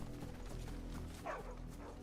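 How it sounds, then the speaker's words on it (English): A dog in the video game Final Fantasy XVI gives a single short, faint bark against a quiet game soundscape. "Oh, a dog!"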